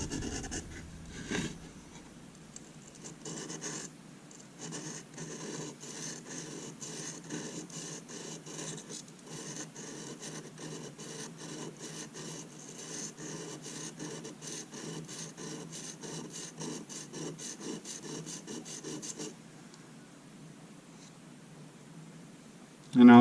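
A serrated bread knife is drawn over a simple bench stone in a fast, steady run of dry rasping strokes that keeps going for nearly twenty seconds and then stops abruptly.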